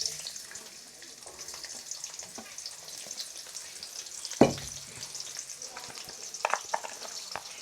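Chopped onion frying in hot oil with two bay leaves, a black cardamom and three green cardamoms, a steady close sizzle with a sharp crackling burst as it goes in and scattered stirring clatter.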